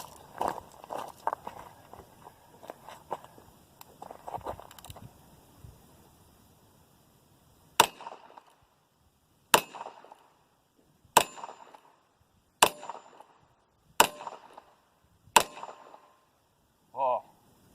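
Pistol firing 22 Winchester Magnum rounds at a target at about 10 yards, six sharp cracks spaced roughly a second and a half apart after some quiet handling noise, loud and close with no talk.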